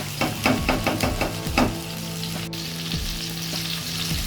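Tomatoes frying with ginger and garlic in a pan sizzle steadily up close, broken by a quick run of rhythmic stirring scrapes early on and a faint clink partway through; no voices.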